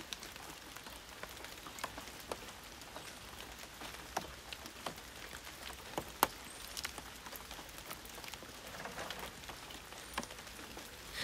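Steady rain falling outdoors, a soft continuous patter with scattered sharper drips on a surface, fairly faint and unbroken, with no voices.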